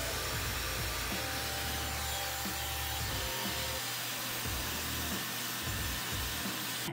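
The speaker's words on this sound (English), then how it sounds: "I took the hairdryer to this guy and blew the air in there" A hair dryer blowing air into a Saucony Ride 13 running shoe: a steady, loud whoosh throughout, with a low rumbling motor hum and some intermittent rubbing underneath.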